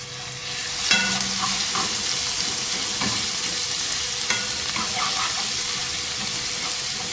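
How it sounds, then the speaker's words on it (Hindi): Crushed garlic and ginger frying in hot oil in a karahi, a steady dense sizzle with occasional stirring scrapes and clinks, close and continuous. "तेल में फ्राई करेंगे इस लहसुन अदरक को।"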